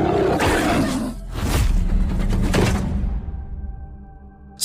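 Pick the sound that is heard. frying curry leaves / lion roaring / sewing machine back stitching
lion roaring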